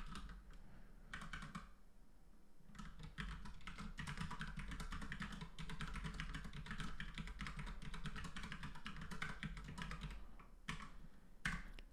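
Steady typing on a computer keyboard while a username is entered for a Wi-Fi connection, dense continuous key clatter for about twelve seconds with a few brief pauses, fairly close and with no talking.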